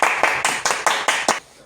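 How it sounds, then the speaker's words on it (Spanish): Seven sharp, evenly spaced hand claps ring out close and clear in a quiet room, ending abruptly after about a second and a half. "Un aplauso."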